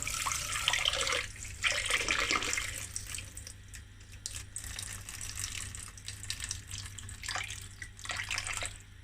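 Water poured off settled oddiyal flour splashes into a container, a fairly quiet gushing trickle that swells and fades over several seconds.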